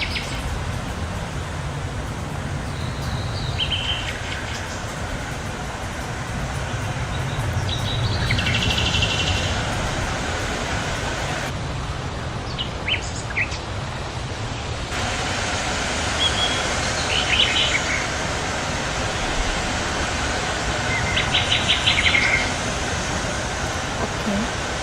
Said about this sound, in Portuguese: Então vamos ouvir um pouco esse som da floresta de pássaros.